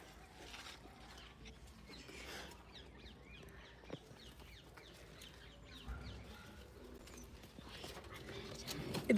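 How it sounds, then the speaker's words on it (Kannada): Faint native country-breed chickens cluck and chirp intermittently in the background of a quiet space, with a soft scuffle near the end. "ನಮ್ಮಲ್ಲಿ ಕೋಳಿ ಇಲ್ಲಿ ನೋಡಿ ನಮ್ಮಲ್ಲಿ ನಾಟಿ ಕೋಳಿ"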